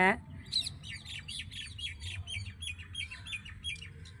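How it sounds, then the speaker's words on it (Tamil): Sparrows chirp steadily in a home garden, a dense run of short, bright tweets repeating through the whole stretch over a low rumbling background. "பாருங்கள், குருவிலாம் எப்படி கத்துறாங்க பாருங்கள்"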